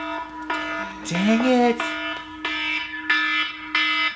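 A phone alarm goes off with a loud, repeating electronic tone in regular pulses. A man exclaims briefly over it partway through, and the beeping continues steadily.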